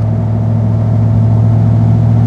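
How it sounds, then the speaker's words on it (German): A 1934 Mercedes 380 Cabriolet C with a supercharged eight-cylinder engine pulls uphill, a loud, steady, deep engine drone held close and constant throughout. "dieser bullige 8-Zylinder-Sound, hatte echt einen tollen Klang"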